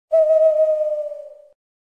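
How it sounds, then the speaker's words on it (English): A single owl hoot, a clear steady whistled tone held for about a second and a half that slowly fades, loud and close, with no talking around it. "Owls come out at night to hunt for their meals."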